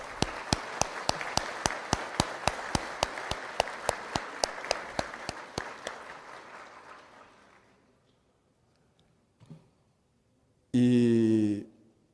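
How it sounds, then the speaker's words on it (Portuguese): Clapping for senator Cristóvão Buarque at a formal solemn session honouring the Brazilian Eubiosis society: a short round of steady, distinct claps that fades to quiet, followed by a brief thump and then a speaking voice. "eu gostaria de pedir uma salva de palmas"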